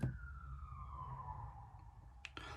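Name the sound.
police siren outside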